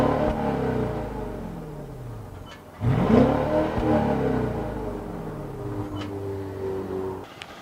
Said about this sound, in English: Let's see what this V8 turbo sounds like